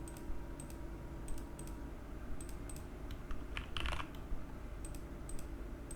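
Keys clicking on a computer keyboard as a numeric value is entered during a database project demo, several short bursts of close, fairly quiet keystrokes over a steady low background hum.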